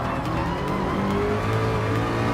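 A Ford GT LM Spec II Gr.3 race car in Gran Turismo Sport, its engine droning loud and steady at high revs, shifting pitch slightly while overtaking, with no talk.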